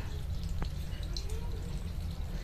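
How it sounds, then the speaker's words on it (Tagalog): Water drains slowly from an LG automatic washing machine whose drain was clogged by a sock, a continuous low trickling rush with a few faint drips. "Tagas na yung tubig eh"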